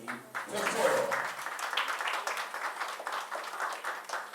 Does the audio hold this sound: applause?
yes